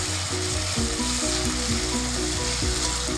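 Finely chopped green chillies sizzle in hot oil in a pan while cooking Kerala-style cutlets, giving a steady, close crackle over a low hum, with no voices.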